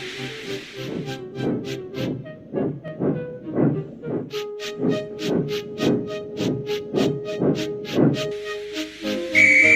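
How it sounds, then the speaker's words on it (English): A conductor's shrill whistle sounds as a steam engine departs in a railway video game, over rhythmic chuffing bursts of steam, the puffs repeating steadily and growing busier, then a hissing blast at the end. "as soon as they heard the conductor's whistle, Gordon departed"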